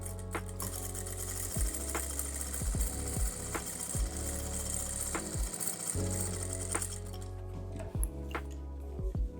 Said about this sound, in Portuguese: Aí você vem aqui bem aqui, ó, e bate uma costura para ficar bonito.